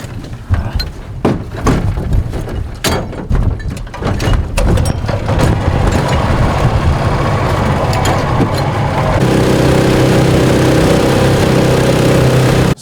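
Strong wind gusting outdoors straight into the microphone, a loud, continuous low rumble with buffeting bursts that settles into a steady roar toward the end, with no voices.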